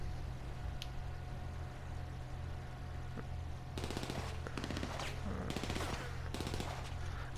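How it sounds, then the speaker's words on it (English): Gunfire in GTA 5 from someone shooting out of a car window crackles in rapid automatic bursts, fairly distant and quiet beneath a steady engine-like hum and background noise. "someone's shooting out their window"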